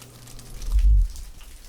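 Raindrops fall on bare soil and make a steady, soft patter. Around the middle, a brief low thump swells up and then fades.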